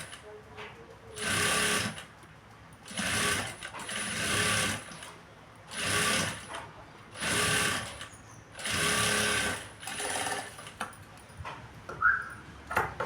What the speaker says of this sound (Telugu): సో మళ్ళీ ఇప్పుడు ఇలాగే టాప్ స్టిచ్ ఒకటి వేయాలండి పైనుంచి